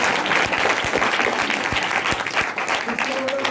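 A church congregation claps loudly and continuously in praise of Jesus Christ, a dense sustained wash of many hands with scattered sharper claps throughout.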